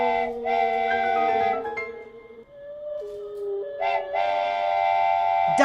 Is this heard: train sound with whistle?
yes